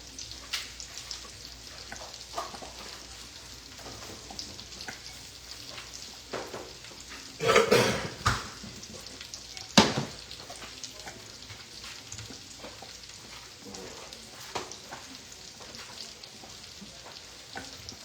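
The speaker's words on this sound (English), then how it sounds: "And whisk in there good" Grits whisked in a pot make a faint continuous bubbling sizzle with soft swishing strokes, and a few louder clanks of the whisk against the pot near the middle.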